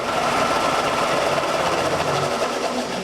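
A rebuilt disk belt sander runs steadily with a continuous whirring, buzzing hum at constant level, close and loud with no speech.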